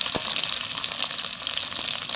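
Sliced big onion frying in hot oil for brinjal kulambu gives a steady, close, crackling sizzle that runs unbroken throughout, with no voices.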